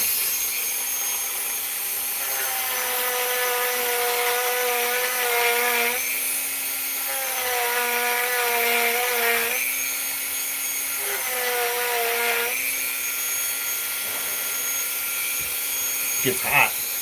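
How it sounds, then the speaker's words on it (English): A sander whines steadily while smoothing a coin ring that has a minting flaw, its tone rising and falling in pitch as pressure on the workpiece changes, with a couple of sharp knocks at the end. "We will use the sander to get us the rest of the way."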